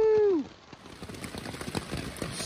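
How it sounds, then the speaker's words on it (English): Dense patter of heavy rain drums steadily on a tent's thin fabric close by, following a brief tonal sound at the start. "I'm currently in my tent and it's pouring down rain"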